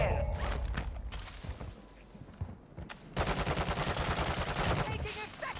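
Rapid bursts of gunfire in a battle royale video game, dense automatic fire with a lull around the midpoint before heavy shooting resumes, loud and close.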